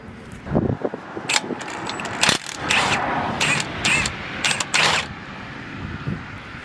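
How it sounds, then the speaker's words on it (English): On the front suspension of a silver EP3, a cotter pin and nut come off a ball joint with close metallic clinks, taps and scrapes in scattered bursts. "Go ahead and take the cotter pin out, then just take that nut out."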